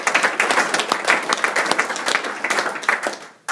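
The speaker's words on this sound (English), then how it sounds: "So that's another round of applause." Sustained applause from a sizable audience, dense clapping that stays steady, then quickly dies off at the end.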